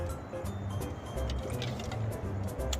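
Water being drunk, with soft wet squishing and dripping sounds close by, steady and quiet, with no talk.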